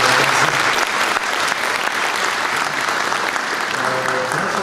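A crowd at a university diploma ceremony for law and administration graduates bursts into sustained, dense applause, loud and steady throughout, with a faint hint of voices underneath.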